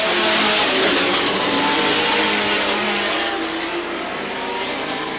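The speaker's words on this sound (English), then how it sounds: "Side by side going into the corner. Wheel to wheel. Fender to fender through 1 and 2." Stock cars race wheel to wheel into a corner at Star Speedway, their engines roaring loud and close in a sustained, layered drone that fades slightly as the pack moves away.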